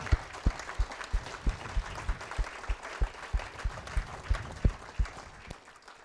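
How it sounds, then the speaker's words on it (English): An auctioneering college class is applauded by the audience at a live student auction. The claps are steady and fairly quiet, with a crowd murmur underneath and a few sharper thumps standing out. The applause thins toward the end. "Give yourself a round of applause"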